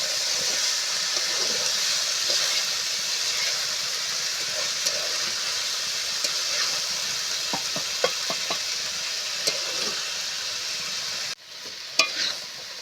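Banana flower curry with potato and chickpeas is stir-fried in a pan, giving a steady close sizzle with soft scraping strokes and a few clinks of the spoon, then a brief pause near the end.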